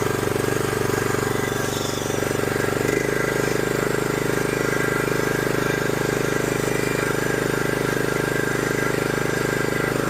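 A cheap used riding lawn mower engine idles steadily, a close, continuous mechanical drone with a slight shift in pitch partway through, no speech over it.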